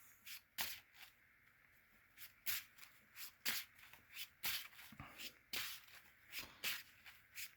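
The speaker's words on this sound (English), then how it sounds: "Let's go ahead and shuffle this one more time here." Yu-Gi-Oh trading cards shuffled by hand at close range: a run of quick, crisp riffling bursts with short pauses between them, coming one after another.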